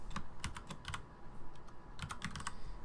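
Rapid keystrokes on a computer keyboard while entering text in Adobe Illustrator, close and crisp, two short bursts of typing separated by a brief pause, over a steady faint background hiss.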